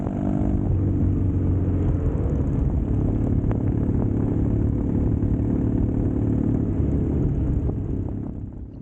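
A custom Triumph Bonneville T100 motorcycle rumbles steadily while being ridden, its engine a constant low drone mixed with wind rush from start to finish, with no voices.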